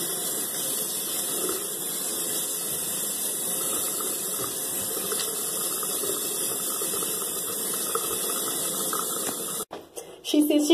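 Water steadily running from a tap while soap is rinsed off a face at a sink, a continuous close splashing hiss that cuts off near the end with a few bumps and a rustle.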